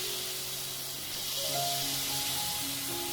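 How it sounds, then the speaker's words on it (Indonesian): Peyek peanut crackers fry in hot oil in a wok, giving a steady soft sizzle and hiss that swells slightly partway through, with no voices. "Nah kalau sudah panas ini boleh langsung kita goreng peyeknya."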